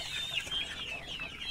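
Breeding hens clucking in a poultry coop, a steady run of soft, nasal clucks and murmurs close by, with no talking.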